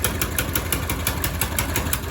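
A small go-kart engine on a KartUSA Road Rocket idling close by, a rapid even chugging pulse with a sharp ticking rattle on each beat, slightly rough and uneven.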